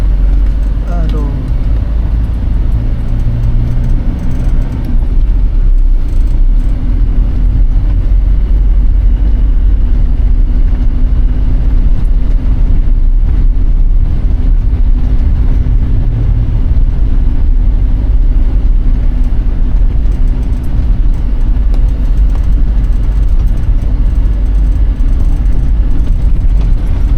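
A car driving along a congested main road in West Surabaya, with a loud, steady engine and road hum filling the whole stretch beneath a person talking.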